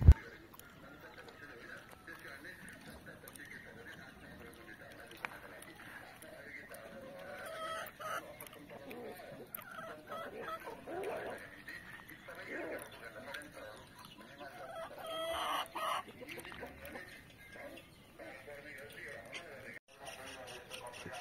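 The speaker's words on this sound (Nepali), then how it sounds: "कुखुराहरू राम्रा देखिन्छन्" Chickens cluck in an open grassy yard, scattered soft clucks at moderate distance beneath someone speaking throughout.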